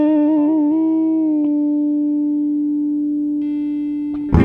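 A guitar plays through an amp setup in Ableton with reverb added. A single sustained chord rings out and slowly decays, then a brief strum closes the phrase.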